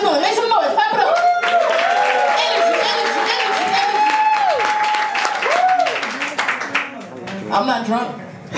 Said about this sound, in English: Make some noise. Clap it up.